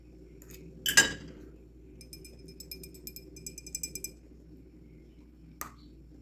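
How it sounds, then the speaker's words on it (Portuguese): A hardened candy-coated strawberry is tapped against a drinking glass in a kitchen, giving one sharp clink, then a run of light quick ticks and a last faint tap, all quiet and close with no talk. "ela está fazendo barulho de vidro batendo no copo"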